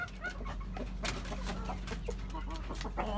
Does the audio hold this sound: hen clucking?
yes